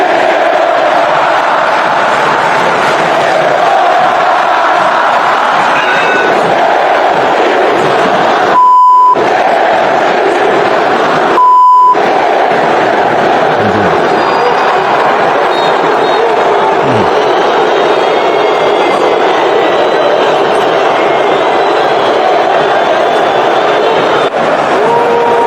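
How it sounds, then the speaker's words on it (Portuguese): Football crowd at the Maracanã booing Flamengo, a dense, sustained roar of many voices filling the whole stretch, interrupted twice by short electronic beeps. "Vamos ouvir a vaia?"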